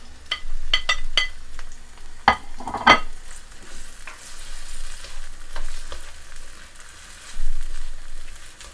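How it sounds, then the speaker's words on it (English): Garlic sizzling as it is added to a hot pot while cooking a Jamaican salt mackerel dish, a steady crackling fry with a few sharp clattering knocks of a spoon stirring against the pot. "So now I'm just gonna add in my garlic."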